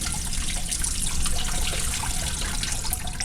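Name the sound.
water spurting from holes in a container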